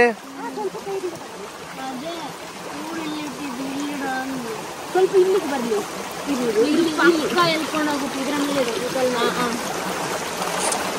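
A small stream flowing with plenty of water during a crab hunt, giving a steady, close broadband rush and trickle that runs the whole time beneath people talking over it.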